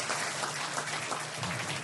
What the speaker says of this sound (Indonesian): Sebetulnya tepuk tangannya setelah ini.